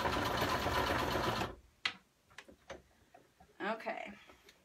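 A sewing machine stitching fabric runs in a fast, steady whir for about a second and a half, then stops, leaving quiet handling clicks and a person speaking softly.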